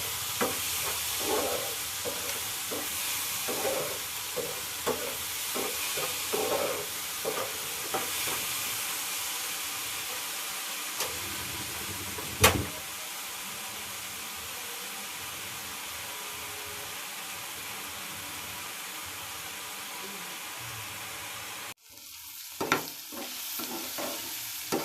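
Bottle gourd seeds frying in a pan for a bharta: a steady close sizzle with repeated stirring scrapes, one sharp click midway and a brief drop before the frying resumes.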